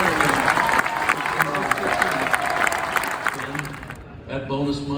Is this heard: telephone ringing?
no